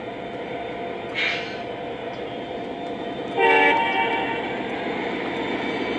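A steady Lionel TMCC model train engine rumble hums throughout, broken by two short horn blasts, the second louder and longer, with the motor tone swelling afterward as speed rises.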